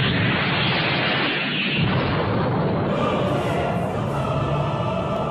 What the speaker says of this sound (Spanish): Una descomunal explosión de energía empuja a Goku.